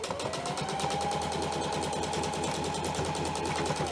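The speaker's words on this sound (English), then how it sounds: "Again, you're stitching down about 1/4 inch stitch." Sewing machine stitching a quarter-inch seam along the pocket of a homemade pleated fabric face mask, a steady, fast, close mechanical whirr with rapid rhythmic needle ticks running without a break, with no voices.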